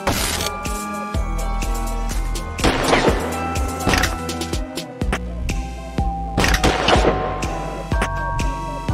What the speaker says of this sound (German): Wo schießt der denn hin?